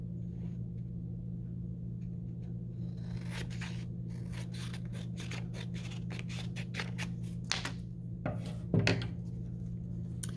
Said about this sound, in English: we're going to take our scissors and cut right along this edge in order to get a square